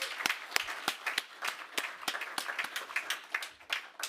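Applause from a modest conference audience on green inland ports, individual sharp claps clearly separable and irregular, fairly close and uneven in strength over a few seconds.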